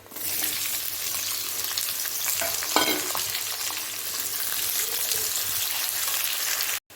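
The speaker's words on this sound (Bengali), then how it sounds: "এখন এর মধ্যে আমি পেঁয়াজটাকে ভেজে নেব" Steady, dense sizzle of onions frying in hot oil, close and continuous, with a few faint stirring scrapes and no talking.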